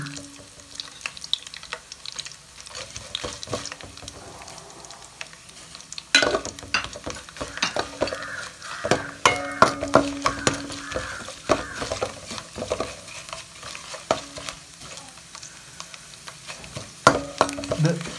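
Vegetables frying in a pan while being stirred for a vegetable curry, an ongoing sizzle broken by irregular scraping and clinking stirring strokes, close and clear.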